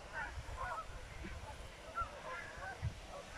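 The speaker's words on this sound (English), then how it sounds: "There, now you can see the geese" A flock of geese honks in scattered, soft calls, faint and somewhat distant over low outdoor background noise.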